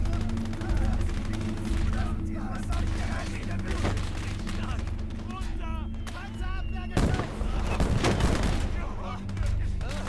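Mortar blasts and gunfire in the WWII game Gates of Hell, Hürtgenwald battle, with a steady low rumble of artillery, scattered shots and a heavier burst of explosions near the middle, under someone talking.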